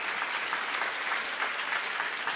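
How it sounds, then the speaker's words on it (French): A television game show studio audience breaks into steady, dense clapping that stays even and full throughout, a continuous wash of applause with a faint voice underneath. "on peut applaudir cet homme quand même"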